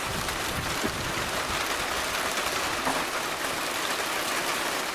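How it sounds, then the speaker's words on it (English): Heavy rain pours down on a slant, heard from a back porch, in a continuous, dense hiss, steady and loud throughout with no pauses. "there's definitely a lot of water coming down"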